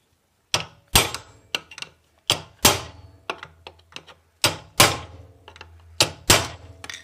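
Hammer blows strike a large screwdriver to bend over a locking washer on a Piaggio Si moped's transmission, giving loud, close metallic clanks in irregular single and double hits separated by silence.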